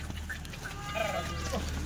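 Kathiawadi goats brought from Gujarat to Chalisgaon bleat in short, scattered calls, several overlapping bleats at a moderate distance over a low, steady background hum.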